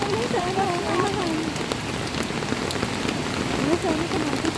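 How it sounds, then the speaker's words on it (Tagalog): Heavy rain falling, a steady dense hiss of drops on surfaces throughout, with a voice speaking faintly beneath it at the start and end. "Talagang malakas ang ulan"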